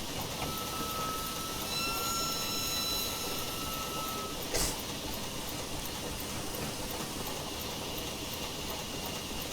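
Decauville Type 1 0-4-0PT tank locomotive running in Train Simulator Classic, a steady rumbling roll with faint wheel squeal and a brief tone early, one sharp clank midway, moderately quiet throughout.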